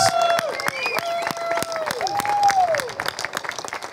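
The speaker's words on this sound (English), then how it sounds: "let's give these guys a big round of applause" Audience applause for finalists at a truck giveaway during a trade show, scattered claps from a modest crowd mixed with whistles and cheering, with sharp individual hand claps standing out near the microphone.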